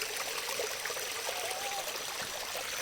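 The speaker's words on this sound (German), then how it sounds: "Jetzt schießen wir ihn auf den Wasserfall." Steady rushing of a small waterfall outdoors, an even broadband hiss of falling water with a faint trickling texture, moderately quiet and continuous throughout.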